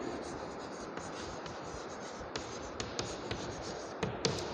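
A pencil draws a continuous curve on paper for a basic geometry lesson, giving a close, steady scratchy graphite scrape with a few light taps and accents, and no voice.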